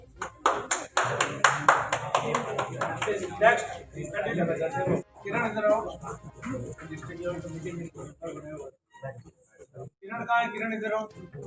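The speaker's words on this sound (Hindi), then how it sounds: "प्लीज तालियां बजाते रहे।" An audience at a district-level transgender festival claps in quick bursts, loudest at the start, with a loud voice talking over it and dog-like yelps in the mix.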